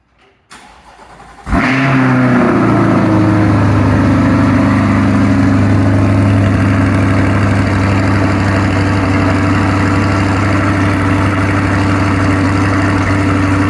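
A stock C8 Corvette V8 with new exhaust tips cranks and fires, flaring loudly before settling into a steady, deep, rumbling idle that holds for several seconds, close up and with no talking.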